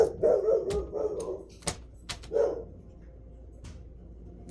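A dog barks several times close by, a short cluster of barks at the start and another single bark a couple of seconds later, then quieter room sound.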